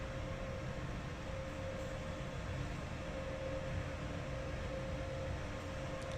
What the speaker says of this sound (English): There's the train stopping.